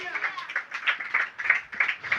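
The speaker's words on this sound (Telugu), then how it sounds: "చప్పట్లు కొట్టాలా." A congregation at a thanksgiving gathering in a home claps in a quick, uneven rhythm, a brief burst of many hands heard at moderate distance.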